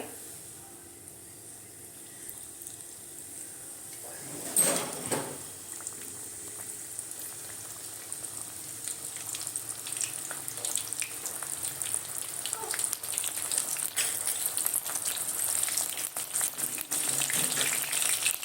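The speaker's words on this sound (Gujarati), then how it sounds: "હવે એને હું તરીશ। તેલ ઓલમોસ્ટ થઈ ગયું છે।" A snack fries in hot oil with a faint, bubbling sizzle, broken by a brief splash early on. The sizzle gradually thickens into a denser, louder crackle toward the end.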